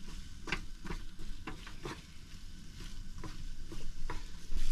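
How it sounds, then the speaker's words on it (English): Curry paste stirred in a pan over a camp stove, a steady sizzle with irregular scraping strokes of the spoon, close and fairly quiet. "just give it a nice stir, make sure everything's all coated in it"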